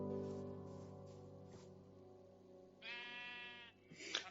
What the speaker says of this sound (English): Follow the sound of the sheep around.